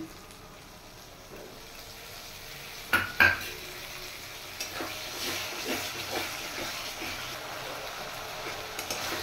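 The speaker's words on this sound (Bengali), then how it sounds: "এবার আমি দিয়ে দেব ফেটিয়ে রাখা দই, আর তার সাথে আছে চিনি আর একটু সামান্য নুন।" Whisked yogurt with sugar and salt poured into spices frying in a pan for a Bengali katla fish curry, giving a steady sizzle and hiss with a couple of sharp utensil clinks early on.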